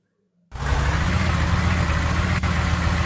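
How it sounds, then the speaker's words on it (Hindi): A jeep engine idling at close range, a steady low rumble that starts abruptly and holds even throughout, with no voices. "जीप"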